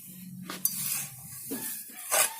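Potting mix of sand and growing media for aglaonema being stirred and turned by hand, three short gritty scraping rustles spaced about a second apart, close and fairly quiet, with no talk.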